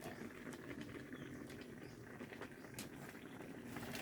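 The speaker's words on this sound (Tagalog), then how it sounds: "Kumukulo-kulo." Liquid bubbling and simmering in a pot while cooking laing, a steady soft popping patter that continues throughout without any talking.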